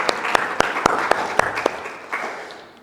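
A church congregation claps in honour of fathers at a Sunday service, a sparse rhythm of about ten distinct, sharp claps over a soft wash of scattered clapping that fades out, with no talking over it.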